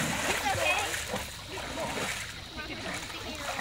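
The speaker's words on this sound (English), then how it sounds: "Yeah, you're like splashing." Water splashing and sloshing outdoors along a trail, continuous and fairly close, with voices talking over it.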